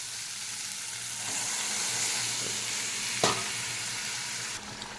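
Eggs hiss and sizzle loudly in a pan of fried spice paste for egg curry, a steady close frying noise with a brief sharp clink of a utensil partway through.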